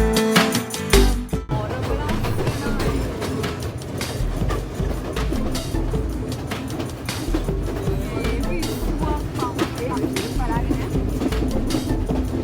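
Inside a moving passenger train at sunrise, a constant low rumble and rattling run beneath a voice and other layered sound, with a sharp clunk near the start.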